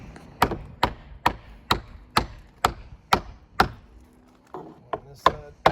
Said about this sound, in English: So now I'm going to drive some wedges in the top.